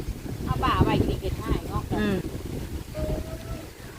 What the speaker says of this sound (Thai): โอ้ยลมมันนี่ลมหนาว